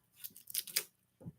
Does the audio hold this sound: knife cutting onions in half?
yes